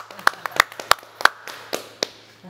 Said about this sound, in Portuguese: Não, então vamos aplaudir.